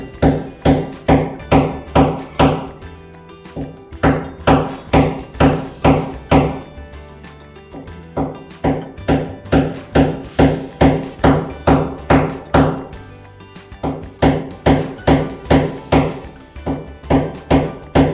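Steady hammering during a DIY project, loud close blows landing in quick regular runs with short pauses between the bursts.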